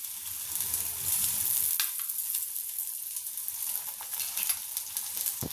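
Thalipeeth, a flatbread of roasted bhajani flour with onion, frying in oil on a pan: a steady, close hiss with soft crackles running throughout, and no voices.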